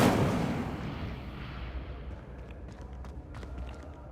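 An Incendio fire spell goes off in Hogwarts Legacy, a loud whooshing burst at the start that fades into a rumbling roar with faint crackles.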